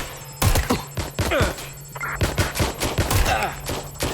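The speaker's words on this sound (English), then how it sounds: "Someone shooting!" Gunfire in Watch Dogs Legion: sharp shots and short bursts crackle out in quick succession over a low steady hum, loud and close.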